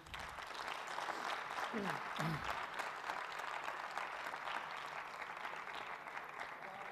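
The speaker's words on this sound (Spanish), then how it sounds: "Le podemos dar un aplauso, si os parece." Audience applause at the close of a science conference on planetary exploration robots, a sustained, fairly faint wash of clapping from a crowd, with a brief voice heard early under the clapping.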